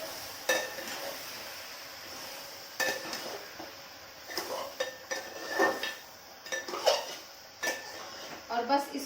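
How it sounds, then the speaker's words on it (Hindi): Ginger garlic paste being stirred into frying mutton in a metal pot, with scattered scraping clinks of a spoon against the pot over a faint sizzle, irregular and close. "और बस इसको चलाते हुए अभी हम थोड़ी देर पकाएंगे कि नीचे लगे ना"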